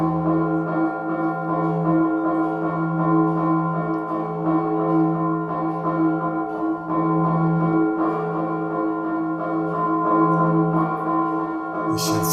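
A church bell tolls a fire alarm in the traditional style of a village bell tower, its deep ringing sustained and overlapping continuously, loud and resonant with a steady, insistent pattern and no voices.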